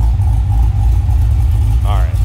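A 2006 Cadillac CTS-V sedan's engine runs loud and close with a steady low rumble throughout and a brief rising rev near the end.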